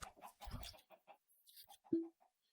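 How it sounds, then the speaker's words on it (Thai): A Minecraft chicken clucks in a farm map, short soft clucks scattered among quiet in-game sounds, with one brief louder call near the end. "มีไก่นะครับ มีไก่แล้วใช่ไหมมีไก่"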